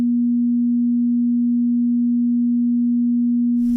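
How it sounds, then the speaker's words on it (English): A synthesized 240 Hz pure tone, a single steady sine hum holding unchanged in pitch and volume for nearly four seconds before cutting off abruptly. "First, the 240 Hz tone."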